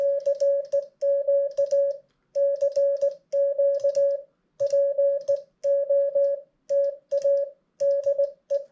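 Morse code CQ call for a POTA activation sent on an electronic keyer: a clean, steady tone keyed in crisp rhythmic dits and dahs, grouped into characters with short gaps, close and clear with no talking.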